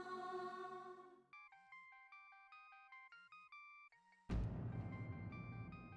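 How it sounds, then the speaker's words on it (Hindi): A melodic phone ringtone plays a repeating electronic tune, then cuts off abruptly into a louder burst of noise. "किसका फोन है माँ?"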